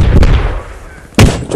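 Artillery fire for effect in the Post Scriptum war game: a rumbling boom fades at the start, then after a quiet gap a loud, close blast hits, followed by another softer report.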